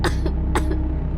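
A young girl coughs at night in a quiet room, three sharp, close coughs in a quick uneven rhythm over a low steady hum.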